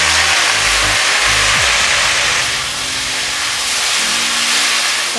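Boiled potatoes hit hot oil in a pan, setting off a loud, steady sizzling hiss that fills the whole stretch close to the listener, with no voices.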